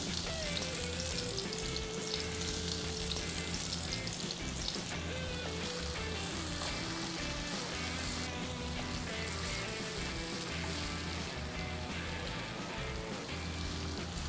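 Garlic, onion and ginger sizzle steadily in a pan of hot oil, a dense continuous crackle and hiss heard close up with no talking.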